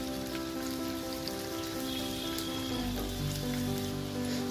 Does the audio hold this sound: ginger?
yes